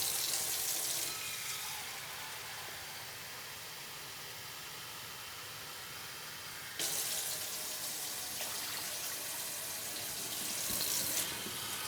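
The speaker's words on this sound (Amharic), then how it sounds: "እጨምራለሁ እንደገና ለብ ያለ ውሃ አለኝ" Lukewarm water pours into a pot of Ethiopian lamb stew (yebeg key wot) in a continuous rushing splash that swells louder partway through, with no voices.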